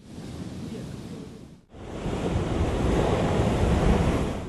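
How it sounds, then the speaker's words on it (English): Large monsoon ocean waves crash on the Udupi coast in a loud, continuous roar of surf, briefly cut off and then resuming louder, with wind buffeting the microphone. "in Udupi, the monster waves are a severe threat to life"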